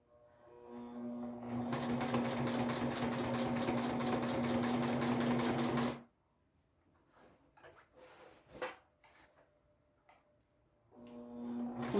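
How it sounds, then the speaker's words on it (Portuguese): A sewing machine stitches binding onto a baby patchwork quilt, a loud steady whirring run of about six seconds, then quiet handling clicks and rustles before the motor starts again. "Continuo costurando devagarinho para caprichar bem no acabamento."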